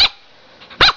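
A husky lets out two sharp, loud barks close up, about three quarters of a second apart, with quiet between them.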